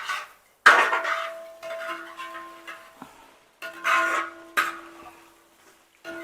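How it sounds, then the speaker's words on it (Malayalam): Beef liver fry with coriander and curry leaves being stirred in a pan, several distinct metallic clanks and scrapes of a spoon against the pan with short ringing tones, close by and unaccompanied by talk. "ഇത് ഒന്ന് മിക്സ് ചെയ്ത് ഒരു 5 മിനിറ്റ് നേരം നമുക്കിതിങ്ങനെ ഇളക്കി കൊടുക്കാം."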